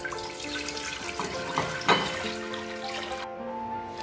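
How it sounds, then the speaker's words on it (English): Water pours from a tap into a cooking pot, a continuous splashing flow with a brief louder gurgle near the middle before it thins out. "To a pot, we are going to add in our water."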